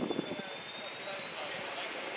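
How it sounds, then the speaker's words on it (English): Lockheed TriStar of the RAF's 216 Squadron making a flyby at an air show, a steady broadband jet roar holding level throughout with a thin high whine on top. "this is one of the great workhorses of the RAF's air mobility fleet, the Lochkeed Tristar from number 216 Squadron"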